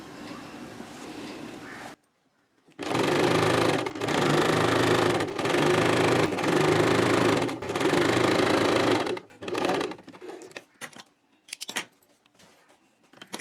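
A sewing machine stitching piping onto a designer blouse runs in several steady, close whirring bursts with brief pauses, then stops and is followed by a few faint handling clicks.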